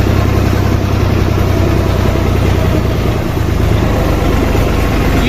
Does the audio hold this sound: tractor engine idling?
yes